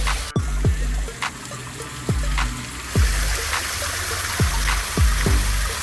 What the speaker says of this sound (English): That waterfall fills up with water and it spills it out